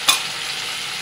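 A ground paste of cashew, tomato, onion, ginger and garlic hitting a pan of frying chicken, giving one brief clatter of stirring followed by a short, steady sizzle.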